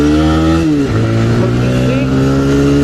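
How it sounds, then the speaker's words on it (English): A TVS Raider 125 motorcycle pulls away from first gear, its engine droning loud and close with a strong harmonic whine that dips briefly at a shift and then climbs steadily again. "let's accelerate again. So let's do it from the first gear."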